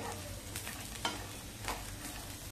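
Green chillies dry-roasting in a pan with a steady sizzle, broken by a few scraping stirs, close and continuous with no voices.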